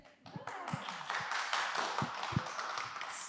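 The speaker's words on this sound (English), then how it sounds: "Let's stand up with applause here." A small audience at an informal art talk gives scattered, uneven applause, distinct nearby claps mixed with murmuring voices.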